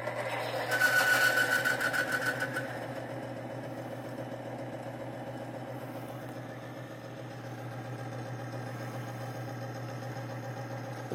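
A failing Timken bearing spins on a test machine with Thixogrease rubbed into the race, giving a steady mechanical hum with a rough, rattling whir that is louder for the first few seconds and then settles.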